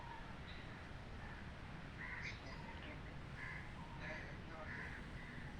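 Young myna bird giving a string of faint, harsh, short calls in quick bursts over a soft background hiss, with quiet voices nearby.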